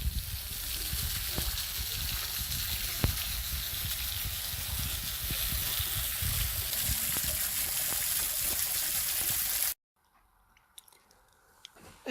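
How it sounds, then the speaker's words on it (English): A waterfall cascades down a slope in the Carpathian mountains, a dense, steady rush of falling water that fills the scene and then cuts off abruptly near the end, leaving near silence. "They even have a cascade falling down here."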